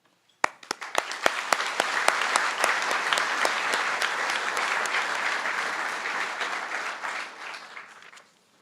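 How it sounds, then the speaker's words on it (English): Applause at a scholar-athlete banquet begins with a few distinct claps, then swells into steady, loud clapping from a large room of people before tapering off and stopping abruptly. "please hold your applause until the end"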